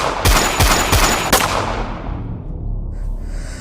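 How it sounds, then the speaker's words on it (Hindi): Gunshot effects in an audio drama: a quick burst of four or five sharp, loud shots in the first second and a half, fading into a dark reverberant tail with no speech. "वैसे ही पीछे से गोली चलने की आवाज़ आती है"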